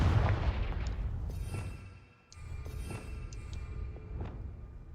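Confringo spell explosions in Hogwarts Legacy, a heavy booming impact that fades to a brief lull, then several lighter cracking blasts with a rumbling tail.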